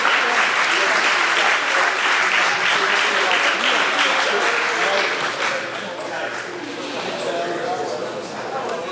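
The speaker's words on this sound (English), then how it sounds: "Let's give them a round of applause" Audience applause at a high school sports hall of fame induction ceremony, a dense sustained clapping from a large crowd that fills the whole stretch and eases slightly toward the end.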